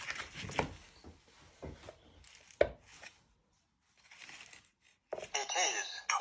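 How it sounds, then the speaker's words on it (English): A knife cuts butter from its pack: sparse, quiet, close taps and scrapes separated by near silence, ending in a brief rustle of the wrapper, with some soft voice sounds. "with a knife you want to take some off"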